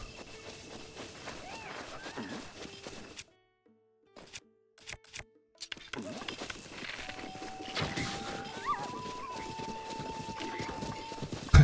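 Horse hooves clip-clop in the Zelda: Breath of the Wild video game, a steady run of hoofbeats under game music and effects, broken by a short near-silent gap midway, with a voice talking over it.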